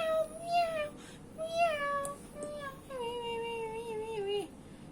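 A cat meows several times up close, first in two short cries and then in one long drawn-out wail, loud over a quiet room.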